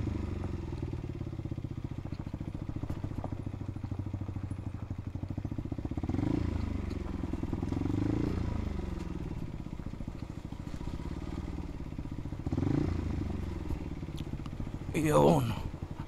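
Motorcycle carrying a passenger on a remote rural road on the Casiguran Peninsula, its engine a steady low drone that swells as it passes, heard at moderate distance.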